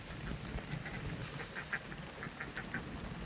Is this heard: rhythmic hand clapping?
no